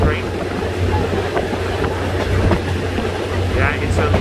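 A Bangkok SRT train runs along tracks between Hua Lamphong and Bang Sue, a steady low rumble and hum with faint rhythmic clicks and squeals, heard from on board under light background chatter.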